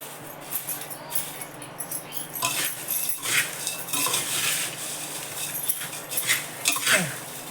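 A utensil scrapes and clanks against a metal pot as a chivda mixture is stirred, with irregular rattling strokes close by.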